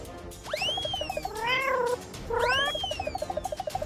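A cat meowing close by, giving two long rising-and-falling meows with quick rhythmic chirping trills between them, fairly loud against a quiet room with no talking.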